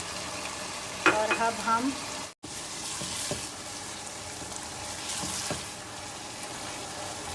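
Qeema karahi fries and is stirred in a pan with ground coriander and whole red chili spices, giving a steady close sizzle with scraping strokes, interrupted by a brief cut, while a voice speaks briefly at the start.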